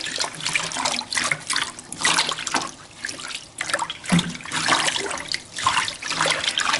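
Produce is swished by hand through a basin of water with a little Basic H soap, giving repeated sloshing, splashing surges in an uneven rhythm, close and fairly loud.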